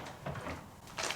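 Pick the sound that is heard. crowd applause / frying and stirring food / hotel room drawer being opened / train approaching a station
hotel room drawer being opened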